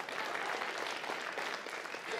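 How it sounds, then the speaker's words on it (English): Audience applause and cheering fill the room, a dense continuous patter of clapping from a crowd at moderate distance. "It's funny you're cheering about that."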